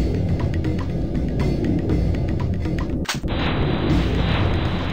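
Game gunfire and explosions crackle in a steady dense barrage with rapid sharp pops, then one heavy blast hits near the three-second mark and the roar continues, loud and unbroken.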